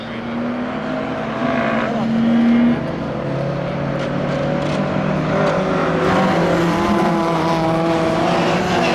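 A Mini race car on a track circuit brakes hard into a corner and accelerates away, its engine note loud and close throughout, with a voice talking over it.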